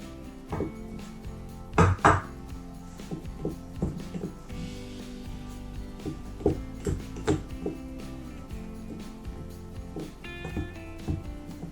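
Egg and oil stirred into flour for choux dumpling dough in a bowl, a utensil clinking and scraping against the dish in irregular taps with a couple of louder knocks, close and moderately quiet.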